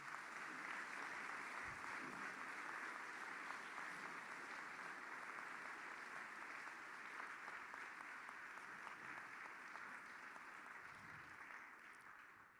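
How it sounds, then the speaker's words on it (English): An audience at a school awards ceremony gives a long, steady round of applause, a dense wash of clapping that holds for over ten seconds and fades slightly at the end. "we're going to give them a big round of applause"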